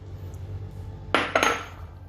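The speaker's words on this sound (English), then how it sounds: "Mix that around. It's exciting watching egg being mixed" Eggs with chopped garlic, salt, pepper and fresh basil being mixed in a bowl: two quick clinking scrapes of utensil against dish after a quiet stretch, close and fairly loud.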